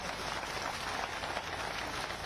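Crowd at an outdoor political rally clapping steadily, a continuous rain-like wash of hands heard from a distance.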